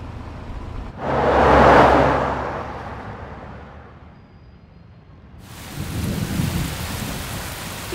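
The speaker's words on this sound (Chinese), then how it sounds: "今天到明天仍以阴雨为主，局部地区有可能大到暴雨" Heavy rain pours down during a thunderstorm, with a deep rolling thunder swell early on and a dense hiss of rainfall surging back loudly after a quieter lull.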